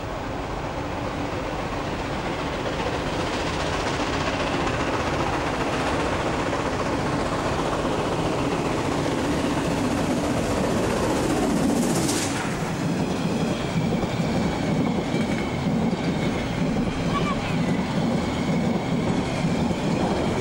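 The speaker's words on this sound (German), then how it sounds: "Vor Bad Doberan eilt der Zug jetzt entlang der Lindenallee." The Molli narrow-gauge railway train runs along the Lindenallee near Bad Doberan, with a steady loud rumble of wheels and carriages, rhythmic clickety-clack and a brief wheel squeal partway through, heard close and continuous.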